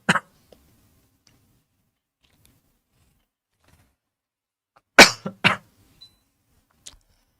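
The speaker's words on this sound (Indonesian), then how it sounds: "Mohon maaf, sedikit, batuk" A man giving an Islamic lecture coughs, one sharp close cough at the start and then a quick pair of coughs several seconds later, with near silence between them.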